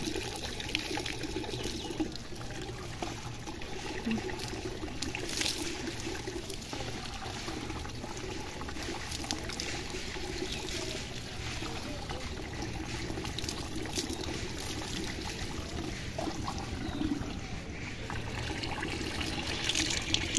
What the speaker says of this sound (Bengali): কল চালিয়ে নে একবারে।